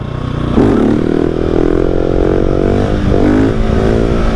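A 2019 KTM 690 SMCR single-cylinder motorcycle revs hard as the rider drops to second gear during a wheelie, with a loud close engine whine that climbs, dips at the shift, then rises again.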